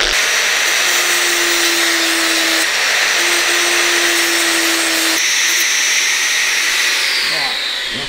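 A grinder takes a high spot off a car body panel on a 1932 Lincoln KA, running as a loud, continuous motor whine whose pitch shifts partway through before trailing slightly at the end.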